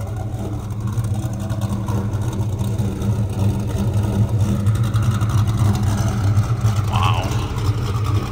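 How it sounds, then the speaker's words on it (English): A 1970 Chevrolet Chevelle with a B&M shifter idles loudly and steadily with a deep rumble for several seconds, recorded close by and without speech. "That's how a Chevelle should sound like."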